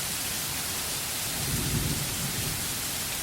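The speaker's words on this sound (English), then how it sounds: "Soon the rain starts. Small drops at first, then larger drops, and then sheets of rain plummeting us." Heavy rain pours down in a steady, dense roar, with a low rumble like distant thunder swelling briefly midway; no voices are heard.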